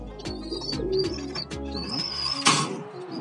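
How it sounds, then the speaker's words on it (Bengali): A golden pigeon coos in low, repeated throaty phrases at close range in a loft, with other birds chirping faintly behind and a brief rustle near the end. "এটা হচ্ছে গোল্ডেন কবুতর"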